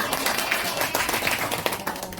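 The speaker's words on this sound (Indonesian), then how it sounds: "Tepuk tangan untuk kelompok 2" Group of classroom teachers applauding after a group 2 presentation in an academic supervision coaching session, a steady dense patter of claps lasting a couple of seconds at moderate volume with no talk over it.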